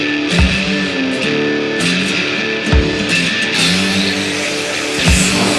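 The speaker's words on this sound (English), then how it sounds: "Little tip when you're grinding down aluminium, this is an aluminium roof rack." Angle grinder cutting into an aluminium roof rack on a hot day, a loud continuous whine with harmonics that shifts pitch as the load changes, broken by three brief heavier bites or thumps spaced across the sound.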